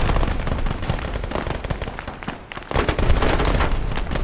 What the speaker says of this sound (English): Cerberus 3-2, Hammer, Grid 240, 215. 6 rounds, HE. Shot, over.